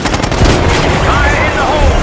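Dense gunfire in the video game Call of Duty Black Ops 6 crackles and booms continuously amid loud battle noise, with rapid repeated shots filling the whole moment.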